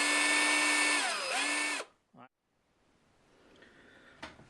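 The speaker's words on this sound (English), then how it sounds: "I'm going to carefully drill a hole going straight through." A power drill whines loudly at high speed while boring a hole straight through a small part, its pitch dipping briefly under load before it stops, followed by a short rattle and quiet handling noise.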